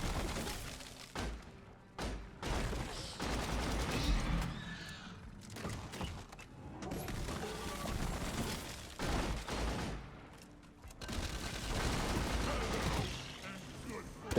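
Weapons firing in Deep Rock Galactic, including the Driller's Sabata: repeated thuds, bursts and impacts over noisy cave combat, with a voice talking over much of it.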